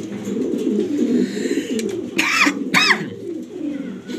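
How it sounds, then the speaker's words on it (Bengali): Two short, swelling coos from an uncommon, colourful pigeon rise out of a steady murmur of background birds and chatter, each lasting about half a second, close by. "এটা একটা আনকমন কবুতর"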